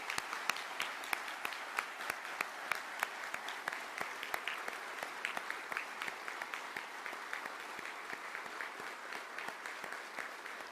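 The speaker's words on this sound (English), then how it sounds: "A big round of applause to all of them." A room of attendees at the 2016 Secretary of Defense Employer Support Freedom Awards applauds the award recipients with steady, sustained clapping, with sharp individual claps standing out over the dense wash of sound throughout.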